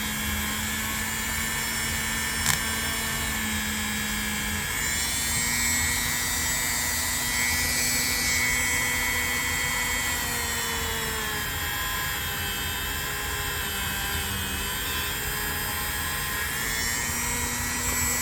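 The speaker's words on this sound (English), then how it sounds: "Let's just see if we can't get more of it off with the Dremel here." Dremel rotary tool running continuously at high speed, grinding rust off a Craftsman knife blade after a mineral oil soak, a steady close whine whose pitch shifts slightly as the tool presses and eases against the steel.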